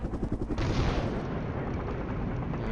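Dense gunfire from a modern military strategy game, Flashpoint Campaigns: Southern Storm, rolls as a loud, continuous barrage of overlapping shots and booms with no gaps or voices.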